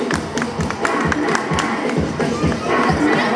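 Parents clap and cheer at a children's school carnival, with scattered sharp claps, shouts and children's voices rising and falling in a lively, crowded outdoor mix.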